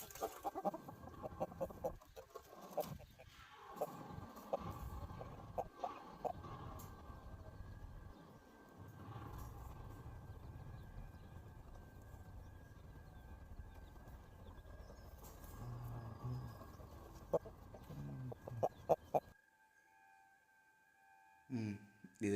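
Breeder rooster on a small farm clucking and calling in short irregular bursts at close range, with livestock and yard noise around and occasional voices in the background before the sound cuts off near the end.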